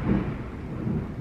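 Low, continuous rumble of distant thunder from an approaching Florida storm, broad and steady with no voices.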